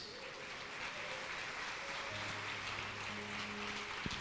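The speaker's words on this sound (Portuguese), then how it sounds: "Você pode aplaudir ao Senhor por isso." A church congregation applauds during a Portuguese-language sermon, a steady wash of clapping from many hands filling the room with a low sustained hum beneath it.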